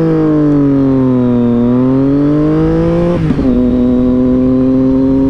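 A Triumph Daytona 675R motorcycle engine drones loudly and close, its pitch rising and dipping as it accelerates, with a brief stumble at a gear change before it pulls steadily onward.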